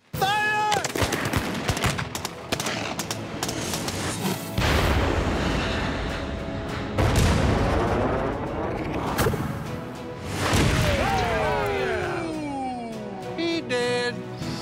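Rapid volleys of gunfire from several guns shooting at a flower-shaped target outdoors, loud crackling bursts and booms repeating across the whole stretch, with no talking.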